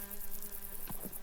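Flies drawn to white, star-shaped flowers in the Berchtesgaden Alps give off a faint, wavering insect buzz, with a brief louder hum passing close by near the end.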